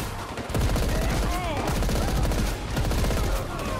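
Rapid bursts of automatic gunfire in the Paint the Town Red video game, loud and continuous with dense overlapping shots through most of the stretch, a brief lull midway before firing resumes.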